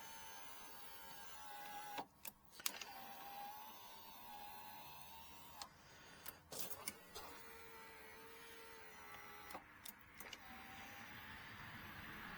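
Electric windshield on a Kawasaki Concours 14 motorcycle running smoothly after a bracket repair, a steady motor whine with a slight pitch drift, broken by a few sharp clicks and knocks, close and fairly quiet.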